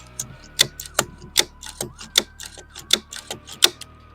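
A PSA bolt cycles back and forth in the upper receiver of an MK12 SPR rifle, giving a rapid series of crisp metallic clicks and ratcheting slides, close and distinct with no talk.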